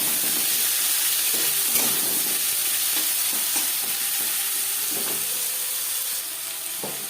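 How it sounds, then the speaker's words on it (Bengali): Chopped onions fry with panch phoron for a Bhola fish curry, giving a loud, steady hiss of oil throughout, broken by occasional soft scrapes of a spatula stirring, with no talking. "15-20 সেকেন্ড 5 ফোড়ন ভেজে নেওয়ার পর দিয়ে দেবো পেঁয়াজ কুচি"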